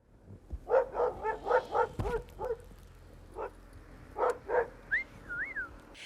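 Sled dogs in Buckland, Alaska bark and yip in a loose series of sharp calls, a few at a time, at moderate distance, with a brief whine near the end.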